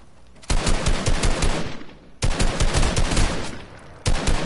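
Rapid automatic gunfire in an online arena shooter game, loud and close, coming in three sustained bursts separated by brief pauses.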